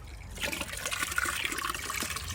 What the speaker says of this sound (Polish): Muszę odpalić wodę.